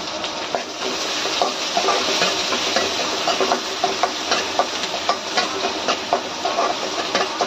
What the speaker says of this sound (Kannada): ಹಸಿಮೆಣಸಿನಕಾಯಿ ಹಾಕಿದ್ರೆ ಸಿಡಿಯುತ್ತೆ, ಹುಷಾರಾಗಿರ್ಬೇಕು.